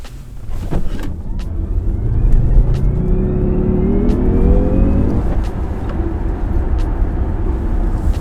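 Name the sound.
electric car accelerating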